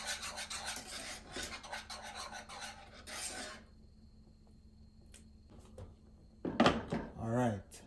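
Whole nutmeg scraped against a grater over a pot of peanut porridge, a rapid run of rasping strokes followed by a few scattered scrapes, close and fairly quiet, with a voice talking briefly near the end.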